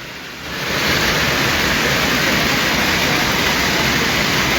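Fast floodwater surges down a rainy-season stream at Teda, a loud, steady broadband roar that swells in over the first half-second and then holds constant, close and unbroken, with no voices.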